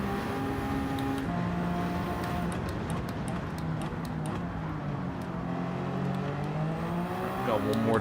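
Race cars in the Gran Turismo 7 endurance event at Lago Maggiore give a continuous engine drone. Pitch shifts rise and fall as the cars accelerate and overtake, and a voice talks over them.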